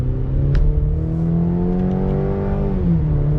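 A 2020 Cadillac CT4 compact luxury sedan braking and downshifting into third around a bend, its engine note droning steadily and shifting in pitch, close and loud inside the cabin.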